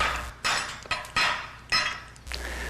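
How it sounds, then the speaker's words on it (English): Hammer blows knock cut pieces off a bolt that has been sliced alongside with an oxy-acetylene torch, giving five sharp metallic clanks with ringing decay, close and loud, at an uneven pace. "Then use a hammer to knock the pieces off."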